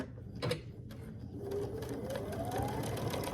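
Steady sewing machine motor running close and loud as it stitches binding down along the edge of a Christmas-themed quilt at a quarter-inch seam, a continuous hum throughout.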